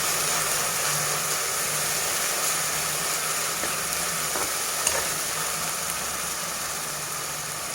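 Onions and ginger paste frying in oil in a pan, a dense, steady close sizzle that continues unbroken throughout with faint scraping stirs.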